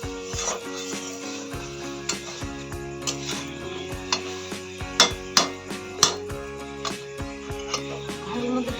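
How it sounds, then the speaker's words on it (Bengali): Cooked curry is transferred from a wok into a cooking pot, heard as repeated metal clinks and knocks of a utensil against cookware over a steady background hum, close by with no talking. "এবার আমি হাঁড়ির মধ্যে দিয়ে দেবো।"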